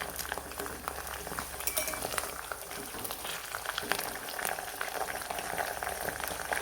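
Cut onion cooking in hot oil for homemade herbal hair oil, a steady bubbling sizzle that runs the whole time with faint clinks of a utensil mixed in, no voices.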